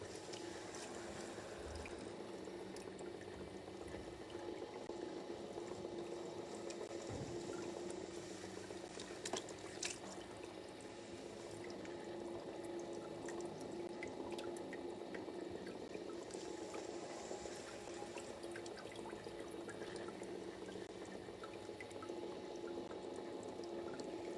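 Wet clay being coned on a spinning pottery wheel gives a steady, low, watery swishing hum that runs continuously and fairly quietly, with faint slurping as hands press the clay and no talking.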